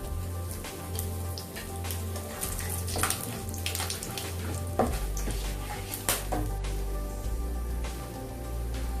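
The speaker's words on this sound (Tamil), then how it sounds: "மசாலா ஃப்ரை ஆயிடுச்சுங்க" Fennel seeds, cinnamon, cloves and cardamom frying in hot oil for prawn rice, a steady close sizzle and crackle with scattered pops, continuous and unaccompanied by voices.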